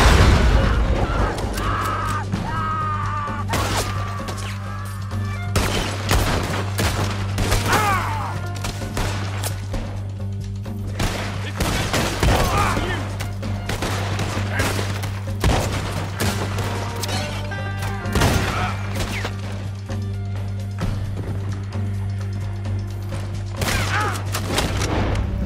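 Gunfire in a shootout in Red Dead Redemption 2 in Saint Denis, with frequent sharp shots and booms over a steady low drone, loud and continuous throughout.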